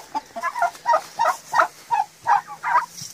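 Domestic turkeys on a farm gobble loudly and close by, about nine rapid bursts in a steady, repeating rhythm.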